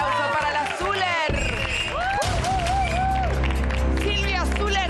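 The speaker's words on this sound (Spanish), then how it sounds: "Por el aplauso para la Zuller." Studio audience applause and cheering on an Argentine afternoon TV talk show, steady and full, blended with a loud playing music sting and a busy crowd throughout.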